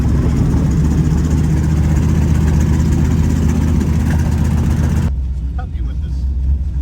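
A Corvette engine idles with a steady low, even rumble close by. The hum runs continuously and then drops to a quieter, thinner drone near the end.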